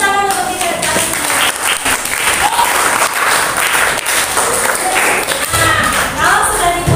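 Students in a classroom clap together, a loud continuous patter of hands with some voices and chatter underneath, lasting several seconds.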